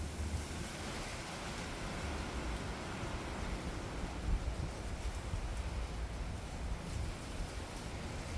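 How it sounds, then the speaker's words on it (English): Wind blowing in Melbourne on a dry late-winter day, a steady, broad rushing roar with buffeting against the microphone, continuous and fairly quiet, with no voices. "It's windy in Melbourne."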